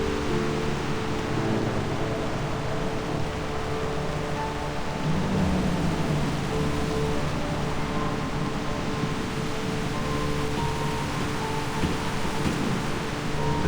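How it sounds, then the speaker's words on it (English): Steady heavy rain hisses over a deep rolling thunder rumble in a thunderstorm scene from the video game Reverse: 1999, a dense, unbroken wash of noise with no voices. "This storm is quite a delightful surprise."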